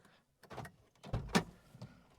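Honda Civic power door locks working in a quiet car interior, giving two faint mechanical thunks and clicks about a second apart, with a short buzzing actuator sound around each one.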